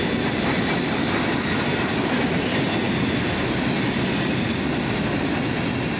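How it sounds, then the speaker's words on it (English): A long CSX manifest freight train rolls past close by, a loud, continuous roar of wheels with steady clickety-clack and faint squealing that holds the whole time, no voices. "And there goes the end of the train"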